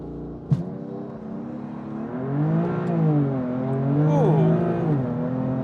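A BMW M4 CS launches hard on a timed acceleration run, its engine note climbing steadily through the revs with brief dips at each gear change, loud and close after a sharp initial thump.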